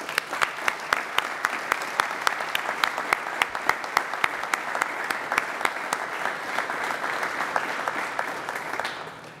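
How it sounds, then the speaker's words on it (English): Audience applause at the Amazon Spheres opening ceremony: a loud, sustained round of clapping from a crowd, dense sharp claps filling the whole span before thinning and tapering off right at the end. "Let's give the folks from Tufel Nursery a round of applause for all of their hard work"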